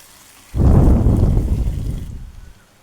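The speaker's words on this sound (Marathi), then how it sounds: "आता लो फ्लेमवरती आपल्याला हे सगळं परतून घ्यायचं आहे" A sudden loud sizzle erupts as chili paste hits a hot pan over low flame, crackling strongly before easing off and stopping.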